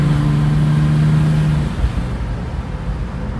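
A 1968 Mercedes-Benz 250SL is driven at full throttle, its engine holding a strong steady tone that then fades into rushing road and wind noise as the car keeps moving.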